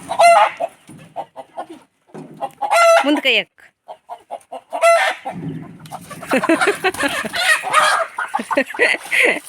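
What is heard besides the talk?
chickens clucking while being caught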